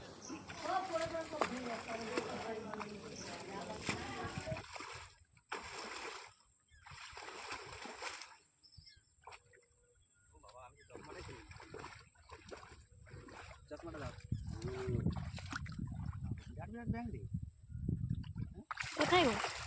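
Splashing and sloshing water as someone wades into a murky, greenish village pond, irregular close splashes that build toward the end, with people talking over them.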